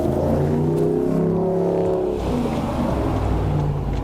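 A car engine revving and accelerating on a city street toward a red light, a steady loud drone with rising pitch, close by.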